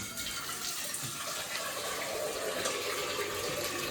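Water runs steadily into a container, a continuous hissing splash that stays even throughout, fairly close with no talking.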